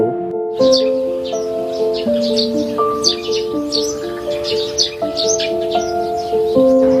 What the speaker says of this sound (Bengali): এই ঘন জঙ্গলে ভোরের বেলা হলেই শুনতে পাবেন নানান পাখির নানান ডাক